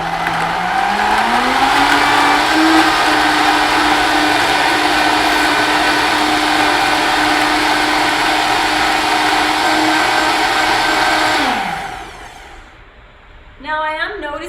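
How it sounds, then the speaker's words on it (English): A vacuum blender blends salad ingredients with a loud, steady motor whine that climbs slightly in pitch, holds for about eleven seconds, then winds down and stops, followed by a brief clatter. "we're just gonna blend this up really quick"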